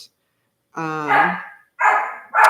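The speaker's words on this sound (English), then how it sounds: "Forgive my dog." A dog gives three loud, close barks, the first a drawn-out yelp and the next two short and sharp, with brief silences between them.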